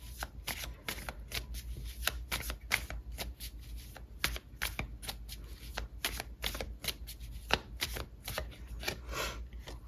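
Tarot cards are shuffled by hand at close range, giving rapid, crisp riffling and flicking bursts that repeat in an uneven rhythm, fairly soft and with no voices.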